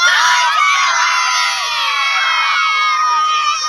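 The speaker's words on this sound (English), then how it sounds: "it's a sold-out crowd here. The fans are very excited, as you can see behind me." A sold-out crowd of excited football fans before a World Cup kick-off cheers and shouts loudly and continuously, dense high-pitched yells and whoops close by with no clear speech.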